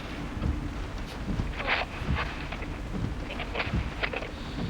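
Torrential rain pounds a car stuck in a traffic jam, a dense, continuous roar of water on the roof and windows with no voices.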